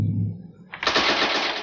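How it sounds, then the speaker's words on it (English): A machine gun fires in a movie scene, bursting in suddenly after a quieter low rumble and continuing as a dense, loud rattle to the end. "Somebody's trying to get out of there with a machine gun, it sounds like."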